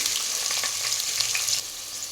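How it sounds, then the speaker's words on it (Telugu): Chopped onion pieces sizzle steadily in a pan with mustard seeds and cumin, a continuous close frying hiss with faint stirring scrapes. "సొనగా కట్ చేసుకున్నాం ఉల్లిపాయ ముక్కలు వేసుకున్నాం"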